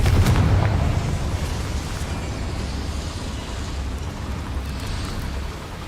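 A Confringo fire spell explodes in the Hogwarts Legacy video game near a boiler, a loud burst at the start settling into a long, dense rumbling roar that fades slightly but keeps crackling throughout.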